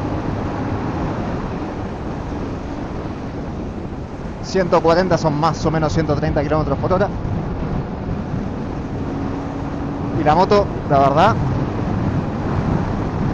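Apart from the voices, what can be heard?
headwind noise while riding a Benelli 752S motorcycle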